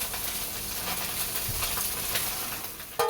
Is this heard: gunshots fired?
no